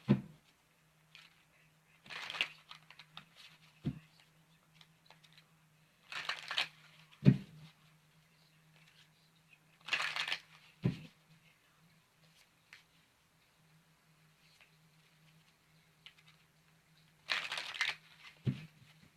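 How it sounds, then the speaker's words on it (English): Tarot cards are shuffled in short bursts, several separate riffles and shuffles spaced apart with quiet gaps and a few soft taps, over a faint steady hum. "Give me a moment while I shuffle up the cards."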